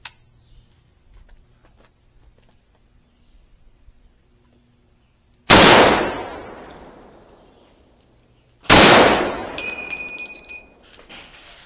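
An M1 "Tanker" Garand rifle with an 18-inch barrel fires .30-06 rounds, 1950s M2 military ball and then S&B. Two loud, sharp shots ring out about three seconds apart after near silence, each followed by a ringing, metallic decay.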